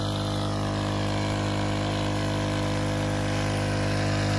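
A small motorized sprayer engine runs steadily in a durian orchard, a loud, constant droning hum with no breaks, heard alone.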